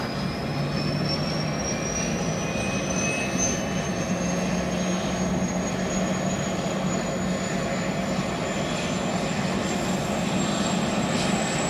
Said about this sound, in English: The engine's starting up.